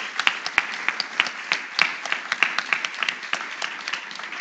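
Steady crowd applause, many hands clapping in a dense, continuous patter with a few sharper claps standing out.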